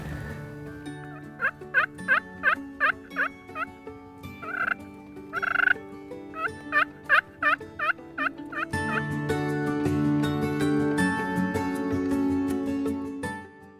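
Two wild turkey toms in a field gobble in repeated rapid bursts, several rattling calls in a row at moderate distance, followed by a sustained steady droning tone.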